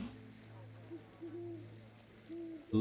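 An owl gives several short, soft hoots spaced apart on a quiet, rainy night, low and moderately distant over a steady background hum, with a louder knock at the very end.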